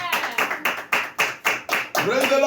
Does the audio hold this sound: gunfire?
no